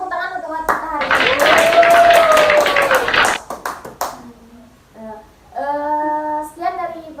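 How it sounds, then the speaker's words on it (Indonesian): A few people clapping at the close of a podcast, a quick run of sharp claps over a sustained voice, followed by speech and a short sung or drawn-out tone. "tepuk tangan untuk kita hari ini."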